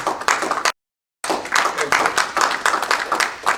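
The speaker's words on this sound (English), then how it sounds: "let us give them all applause" Audience at a Korean American community forum claps in a dense, close burst of applause, briefly cut to silence before resuming with steady overlapping hand claps.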